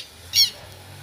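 A single short, sharp squawk from a small bird, fairly close, rising briefly over a quiet outdoor background.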